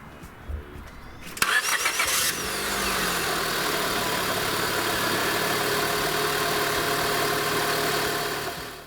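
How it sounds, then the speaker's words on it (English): A 2004 Honda Civic engine starting after a starter replacement: a brief cranking whir catches quickly, then settles into a steady, even idle that continues loudly and close. "one last victory start"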